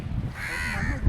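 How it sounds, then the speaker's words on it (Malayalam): A single crow caws once, close and fairly clear, near a house by Arthunkal Beach. "വീട്ടിൽ കാക്കയുണ്ടല്ലോ."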